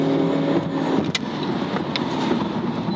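A Suzuki SX4 drives at steady speed over a rough concrete track, with constant road and engine rumble and a couple of sharp knocks from joints in the slabs.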